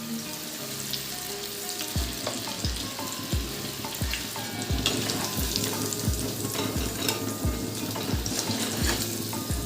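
Onion ring pakoras deep frying in hot oil, a steady loud sizzle with a regular series of soft clicking knocks, likely from a utensil stirring in the pan, close up and with no talking.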